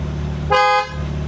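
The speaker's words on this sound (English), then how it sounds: "Why you honking the horn?" The horn of a manual BMW G80 M3 gives a single short, loud honk of about a third of a second, close by, against a quiet interior background.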